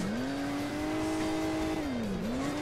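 A car engine drones steadily in the Hill Climb Racing 2 mobile game, its pitch rising, holding, then dipping and climbing again as the vehicle drives over uneven terrain, alone and fairly quiet.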